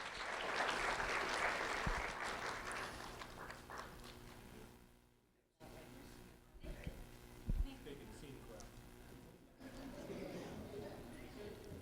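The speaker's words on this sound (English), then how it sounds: "Let's have a round of applause for Nathan Lorenzo Lee" Audience applause at a school recognition ceremony, moderate clapping that fades out, followed by quieter room noise and scattered thumps with some talking.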